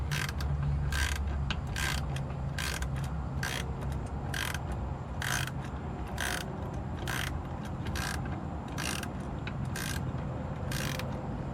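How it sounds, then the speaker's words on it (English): A gear wrench ratchets while tightening nylock nuts on Westin step bars for a 2019 Nissan Titan XD. Crisp clicking bursts repeat in quick rhythmic strokes throughout, close and clear over a steady background hum, with no talk. "Got a 10mm box wrench and a gear wrench. Just tighten the nylock nuts up"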